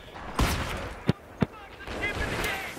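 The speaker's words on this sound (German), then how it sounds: "Mein einziger Schuss mit Mörser" Mortar fire in the video game Battlefield 3, heard as two sharp, short blasts in quick succession amid low-level game background noise and other faint gunfire.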